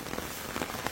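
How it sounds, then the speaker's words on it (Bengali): Heavy rain falls steadily in an open outdoor spot in Bali, Indonesia, a dense, even hiss of drops on surfaces with no voices over it. "কি আরে বৃষ্টিটা আসলো রে"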